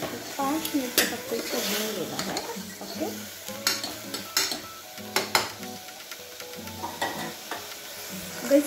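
Green moong sprouts roast in a pan while a spoon stirs them, with a soft sizzle broken by repeated scraping and clanking strokes. A person talks over the cooking at times.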